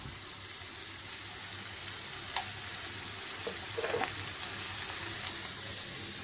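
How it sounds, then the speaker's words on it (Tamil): Capsicum and onion frying in oil for a capsicum thokku masala, giving a steady quiet sizzle with a few faint stirring clinks and taps, with no voices over it. "தாளிக்கும் போது இந்த கேப்சிகம் அண்டு ஆனியன் சூப்பரான ஒரு ஃப்ரை ஆக போகுது"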